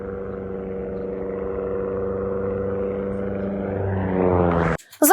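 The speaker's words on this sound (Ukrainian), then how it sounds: "Це останні секунди польоту у російського легкомоторного літака." A Russian light aircraft's engine drones steadily, then rises in pitch as the plane dives in its last seconds of flight and is cut off abruptly by a crash.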